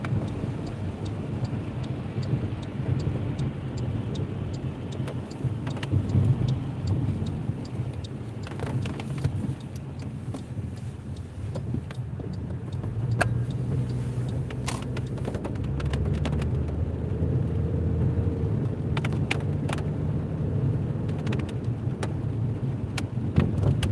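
A car driving along South Swain Street in Raleigh in the rain, a steady low road-and-engine rumble with tire hiss, faint ticks and patters over it, continuous and close from inside the vehicle.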